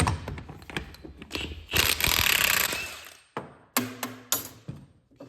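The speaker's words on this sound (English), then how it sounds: "So this is a 30mm bolt." An impact gun zipping off a 30mm differential bolt on a Gen 2.5 Mitsubishi Montero, a loud close hammering rattle building to a sustained burst, then several short sharp impact bursts and clanks.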